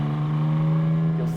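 A Porsche 718 Spyder RS 2024 convertible with a racing-derived engine and PDK gearbox, its exhaust valve stages open as it holds a steady loud droning note under acceleration, heard from inside the car.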